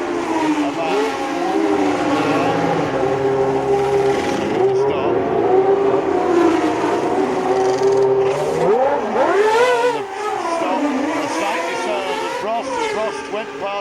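Formula 1 cars of Senna and Prost at a race circuit, engines rising and falling as they pass near a chicane, one pulling into the pits, loud and continuous under steady commentary.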